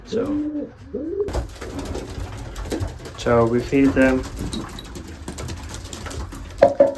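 Racing pigeons coo softly in the background at feeding time while someone talks over them, with a brief louder burst of bird calls near the end.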